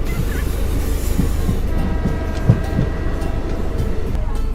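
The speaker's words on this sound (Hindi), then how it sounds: "काफ़ी साल बाद इस रूट पर ट्रेन जो है वो चल रही है" A train runs on the India–Nepal international route near Janakpur, with a continuous close, heavy rumble and faint rhythmic wheel clicks and squeaks throughout.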